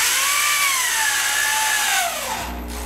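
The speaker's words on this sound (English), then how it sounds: "Countersink it a little bit." Power drill countersinking a screw into a studio wall, a loud, close motor whine that dips and slows in pitch as the screw bites, then cuts off.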